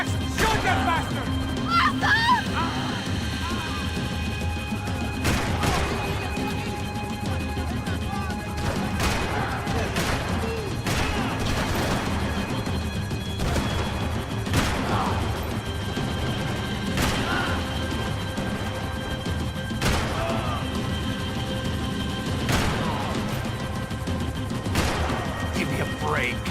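Gunfire in Max Payne 3 during a vehicle chase: repeated sharp shots and impacts at uneven intervals over a constant engine-like rumble, with voices talking amid the action.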